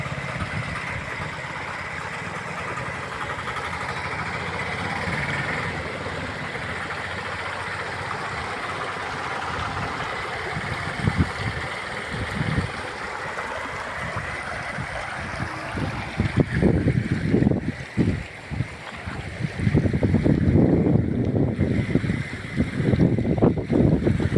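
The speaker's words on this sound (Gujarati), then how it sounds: "જો કેવું પાણી જાય છે" Floodwater rushing through a flooded village street during heavy monsoon rain, a steady broad roar that grows louder and more turbulent toward the end, with wind noise on the microphone.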